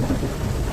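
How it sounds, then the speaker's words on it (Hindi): Heavy rain pours down in a thunderstorm, a dense, steady roar with a low rumble of thunder, loud and continuous with no voices. "oh my God, check out guys, पूरा बारिश हो चुका है,"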